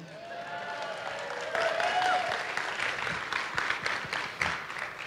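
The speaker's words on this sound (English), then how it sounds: "Clap for Elmo." An audience applauds for Elmo at a film Q&A event, a full, sustained wash of clapping that swells after a brief voice and carries on throughout.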